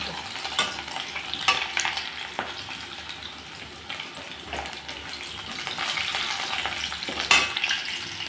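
Medium-cut potato pieces frying in a pan until browned, a steady close sizzle broken by repeated clacks and scrapes of a spatula turning them, moderately loud throughout with no talking.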